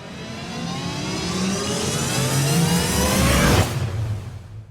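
Lorry engine revving as it arrives at an industrial site, a loud rising roar building over a few seconds and then cutting off sharply, with no voices.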